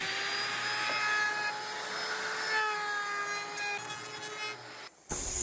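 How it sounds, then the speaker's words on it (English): A table-mounted router with a curved bit cuts the edge of a plywood countertop piece, a steady high whine with a rough cutting rasp, then briefly drops before a sudden noisy burst at the end. "So this is the table of the router. This has a curved bit."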